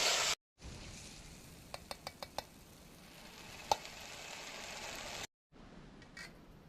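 Cabbage curry with garlic stirring in a frying pan, giving a steady soft sizzle with a few quick clicking taps of a spoon against the pan, close and fairly quiet.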